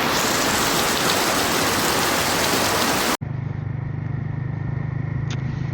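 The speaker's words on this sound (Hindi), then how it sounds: "तो बारिश स्टार्ट हो चुका है गाइस।" Steady rain on an open road in West Bengal, a loud wide wash of falling drops for three seconds, then cutting to a quieter, sheltered hiss of rain with a low steady hum beneath.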